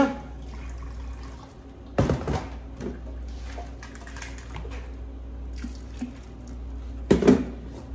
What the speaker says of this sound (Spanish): vamos a darle un poco de agua para enjuagar nuestra